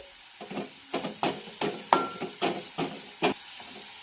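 Finely chopped curry leaves frying in a pan for a moong dal dish, heard as a soft background sizzle with about eight distinct stirring scrapes and clacks spaced evenly, close by.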